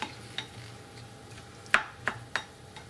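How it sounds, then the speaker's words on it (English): A utensil scrapes and knocks against a pot as couscous is stirred, a few sharp close clinks spaced unevenly over a quiet background hum. "You want to give that a good stir."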